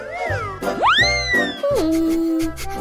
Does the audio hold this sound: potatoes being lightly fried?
no